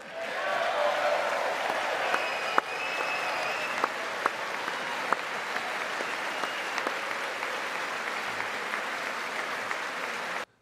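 An audience applauds at the State of the Union address, steady sustained clapping from a large hall crowd with a few sharper claps standing out, continuing for several seconds.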